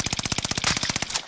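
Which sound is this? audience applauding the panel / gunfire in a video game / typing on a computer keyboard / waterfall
gunfire in a video game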